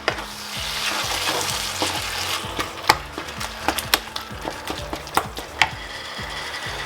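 Tomatoes sizzle and fry over high heat in a pan while being mashed and stirred, with irregular sharp clicks and scrapes of the utensil punctuating a steady close-up frying hiss.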